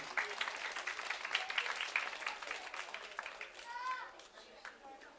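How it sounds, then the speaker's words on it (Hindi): Audience clapping to welcome people at a school event, fairly faint and uneven, with voices and crowd chatter mixed in over the applause. "इनका भी जोरदार तालियों के साथ हम स्वागत करेंगे"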